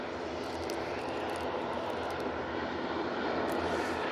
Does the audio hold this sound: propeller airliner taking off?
yes